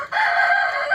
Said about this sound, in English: That chicken right there probably like to come over here and eat my lettuce